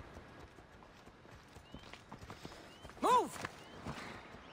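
Horse hooves in Assassin's Creed Odyssey, quiet irregular clip-clops under game ambience, with a brief loud shouted voice and a short whinny-like tonal cry midway.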